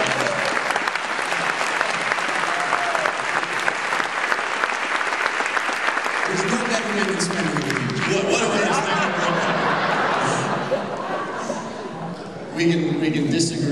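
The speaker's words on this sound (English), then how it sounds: "so I'd like to ask for a round of applause." Audience at a congressional debate in Wilton, Connecticut breaks into loud, sustained applause that fills the room, then a voice begins talking over the thinning clapping in the final seconds.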